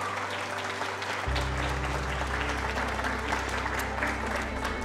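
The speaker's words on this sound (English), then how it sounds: "can we please give her a round of applause for her looking spectacular tonight?" Wedding guests clap for the bride during a reception speech, a steady round of applause from a sizable crowd with a low hum running underneath.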